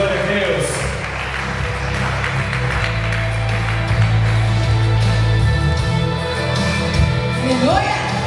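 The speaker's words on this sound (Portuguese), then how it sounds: "vamos aplaudir o Senhor por ele" Church congregation applauding during worship, clapping and cheering mixed with shouts and voices over a humming sound system and sustained music tones.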